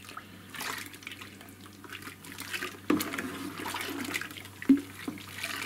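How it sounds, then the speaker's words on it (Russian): A small paddle stirs yeast into apple mash, making soft wet sloshing and trickling with two sharper splashes partway through, close and fairly quiet, with no talking. "Сейчас я им, в принципе,"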